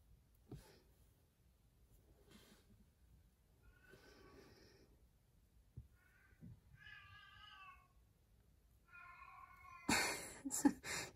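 A black and white cat with mouth ulcers meows angrily several times, drawn-out complaining cries spaced by quiet pauses, ending in a loud hissing growl close by.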